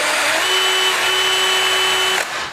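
A power drill whines steadily at high speed for about two seconds against the steel toe of an indestructible shoe, then cuts off abruptly and spins down.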